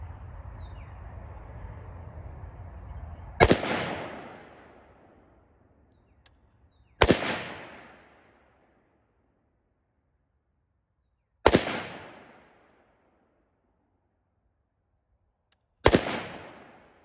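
Four loud, sharp rifle shots ring out close by, each followed by a short decaying echo, spaced a few seconds apart after an opening stretch of low rumbling background.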